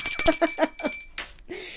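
Subscribe bell sound effect, a bright, rapid run of short ringing tones with sustained high overtones, close and loud, ending in a brief fading ring.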